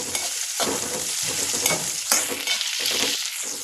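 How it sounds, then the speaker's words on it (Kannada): Onions with curry leaves and coriander fry in a pan for a chavalikayi palya, hissing loudly and steadily up close as a spoon scrapes and stirs them at uneven intervals. "ನೋಡಿ, ಚೆನ್ನಾಗಿ ಫ್ರೈ ಮಾಡ್ಕೋಬೇಕು."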